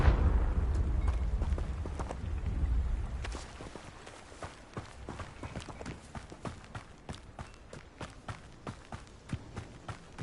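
Confringo explosive spell cast in a Hogwarts Legacy-style game: a heavy rumbling blast for the first few seconds, fading into a steady run of close, light footsteps.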